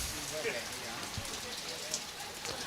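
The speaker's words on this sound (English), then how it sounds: "the rain will stop" Rain falls steadily on an outdoor lawn bowls green during a state championship, a soft, even hiss and patter with no distinct drops standing out.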